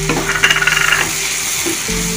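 Finely chopped tomato sizzles and spatters in a hot pan on high flame for a dried prawn roast, with a burst of quick stirring scrapes early on that settles into a steady frying hiss.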